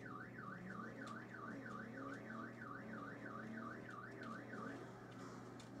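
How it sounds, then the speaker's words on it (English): An old hot rod's car alarm in Saints Row wails in a continuous rising-and-falling siren pattern, steady and unbroken, over a low engine-like hum. "Oh, it has got an alarm."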